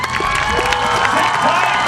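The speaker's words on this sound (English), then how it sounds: "a big round of applause for all of our jousters" Spectators at a Celtic faire jousting championship cheer, shout and clap for the jousters, a loud, busy mix of whoops and voices from a sizeable outdoor crowd.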